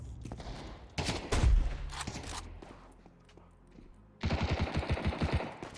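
Rapid automatic gunfire bursts in the Counter-Strike 2 video game, loud close volleys early then a quick rhythmic string of shots at the end, with footsteps between.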